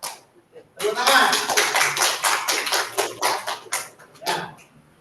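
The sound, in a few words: class applauding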